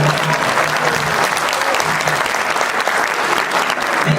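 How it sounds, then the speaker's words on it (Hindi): A crowd applauding steadily, dense clapping that stays loud and even from start to finish. "ताली बजाते हैं।"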